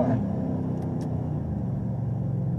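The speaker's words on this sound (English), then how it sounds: "This is a runaway diesel," A runaway diesel engine running uncontrollably gives a steady, heavy low rumble that stays loud and continuous for a few seconds, with no voices over it.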